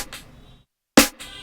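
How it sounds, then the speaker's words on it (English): A Kashmir snare layered with a second snare, heard as one sharp, loud hit near the end, preceded by fading drum-kit tails and followed by a short ringing decay, with no talk. "Now I'm using this Kashmir snare."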